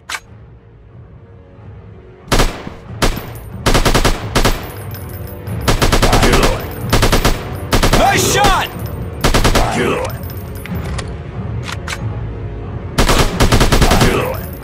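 Rapid automatic gunfire from a robot-themed first-person shooter game on Android, loud and close, coming in repeated bursts of fast shots with brief pauses between volleys.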